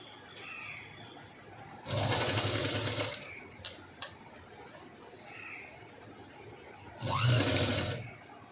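A sewing machine stitches a blouse seam in two loud bursts of about a second each, separated by quieter handling clicks and a faint background, with no speech.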